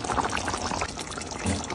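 Mutton gatty kulumbu gravy simmering in a bronze pot as the oil separates, a steady close bubbling and sizzling hiss throughout with a brief louder burst near the end.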